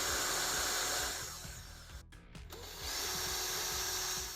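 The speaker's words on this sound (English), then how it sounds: "so we're going to just drill up through those as well" A power drill whirs steadily up close, drilling holes in a silicone mask mold, slowing and briefly stopping midway, then spinning up again at full speed.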